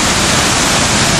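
A waterfall, one of the seven falls of Pueblo Bello, roars as a steady, dense wash of broadband water noise, loud and close, with no voices over it.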